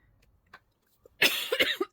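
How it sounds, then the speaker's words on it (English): A short coughing fit: a few faint throat sounds, then a burst of several harsh, close coughs in quick succession. "Just had a little bit of a coughing fit"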